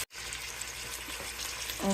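Onions for veg fried rice sizzle steadily in a hot pan, a continuous crackling hiss with faint stirring, no voices.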